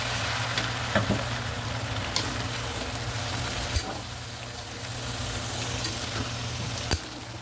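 Potatoes and carrots sautéing in a hot pan, a steady close sizzle with occasional scraping stir clicks throughout, no talking.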